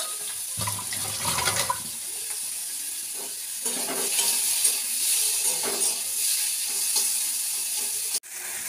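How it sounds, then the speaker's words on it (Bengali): Prawns fry in a pan with a steady, close sizzling hiss, broken by a brief watery clatter early on and occasional stirring. "এই যে চিংড়ি মাছটা ভেজে নিচ্ছি"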